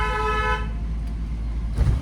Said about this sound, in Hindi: लॉन्ग हॉर्न प्रेस करो